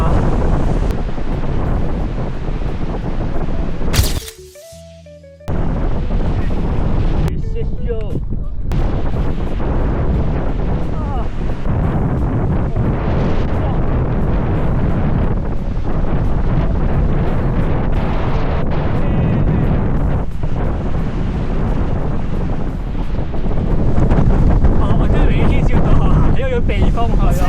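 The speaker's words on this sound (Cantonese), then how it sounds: "好急勁嘅河流" A fast-flowing river roars in Hooker Valley, New Zealand, under heavy buffeting wind that pounds the microphone in a loud, continuous rumble, with one brief drop in the middle and people talking over it.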